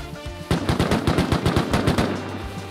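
Rapid automatic gunshots from the survival video game Rust fire in a quick string of about a dozen sharp, evenly spaced cracks, loud and close, with no talk over them.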